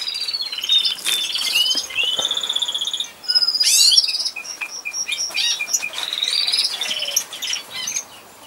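Pet birds singing in an aviary beside a chicken coop in the early morning: a dense chorus of high, close chirps, trills and twittering calls that overlap continuously without any speech.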